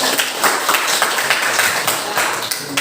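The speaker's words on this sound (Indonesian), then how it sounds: "berikan tepuk tangan" Students in a classroom lesson clap together, a loud, brisk burst of many hands that holds steady with no voices over it.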